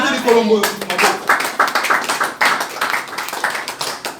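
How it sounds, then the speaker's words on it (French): Church congregation clapping in acclaim of the Lord, a dense burst of many hands applauding close by, following a short spoken phrase, with voices mixed in under the steady pattering claps. "Acclamons le Seigneur"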